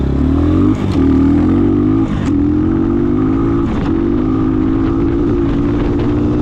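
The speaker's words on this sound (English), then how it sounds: "Getting some wheel spin." A Trailmaster TM33 233cc Chinese dirt bike on hard stock tires runs close by with a loud, steady engine drone that climbs gradually in pitch as the rear wheel spins, with brief clattering bumps.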